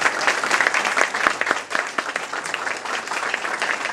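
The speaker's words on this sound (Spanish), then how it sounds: "Un aplauso para ellos, por favor." Audience applause after a cinema and literature panel at the 2015 book fair, a dense, steady burst of clapping lasting a few seconds with a brief dip midway.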